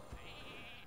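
A sheep bleats once from a polymorph spell in the Hearthstone card game, a single wavering cry held for under a second, alone and clear.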